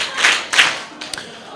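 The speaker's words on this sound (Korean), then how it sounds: "박수 3번 시작." A group of seated teachers at a church seminar claps in unison, two bright sharp bursts close together followed by a softer third one.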